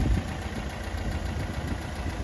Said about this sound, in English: The engine is extremely smooth and very quiet